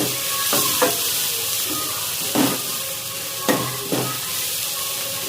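Tomatoes being stirred in a frying pan, giving a steady soft sizzle broken by several close scraping strokes of the spoon against the pan.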